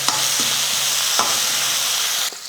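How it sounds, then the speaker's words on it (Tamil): Steady, loud sizzling of onion frying in a pan, with a few scraping stirs of a utensil; the sizzle drops off abruptly near the end. "இந்த வெங்காயம் சேர்த்துக்கிறேன்"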